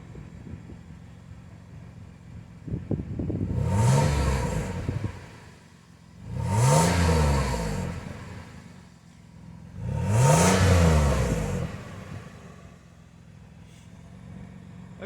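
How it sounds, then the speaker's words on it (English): High-mileage Lexus RX300 SE-L with an engine management light on, heard from behind at the exhaust as three separate revs rise and fall, each swelling to a loud roar and settling back to a quiet idle. "Well, exhaust sounds alright."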